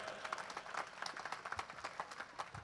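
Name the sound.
audience applause at a comedy show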